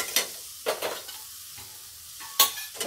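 Amla, tea leaves and coffee cooking in a pan for a homemade hair dye: a soft steady sizzle with a few sharp scrapes and taps as a spoon stirs the mixture, close and fairly quiet.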